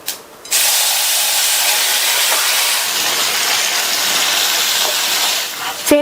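Boiled bottle gourd and moong dal hit a hot tempering of chilli and asafoetida, setting off a loud, steady sizzling hiss that runs for several seconds without talk.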